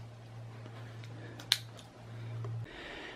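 A single sharp snip of zip ties being cut off the gantry of a Creality CR-10 3D printer during assembly, one brief close click over a steady low hum.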